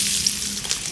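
Onion and garlic fry in hot oil for chilli chicken, a close, steady sizzle heard alone for under a second.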